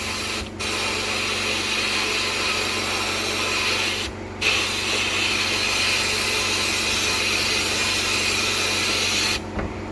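Sandblasting copper bars to strip oxidisation, using old blasting sand: a loud, steady abrasive hiss and roar that runs almost continuously, broken by two brief pauses, with no voices.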